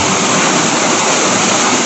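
Water massage jets at a resort swimming pool churn out a loud, steady, close hiss and gush of rushing water, with no other sounds over it.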